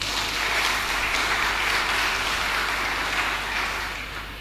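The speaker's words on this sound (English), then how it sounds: "I want you to give yourself a round of applause." Graduating class at a secondary school graduation clapping for themselves, a full, steady wash of applause that fades slightly toward the end.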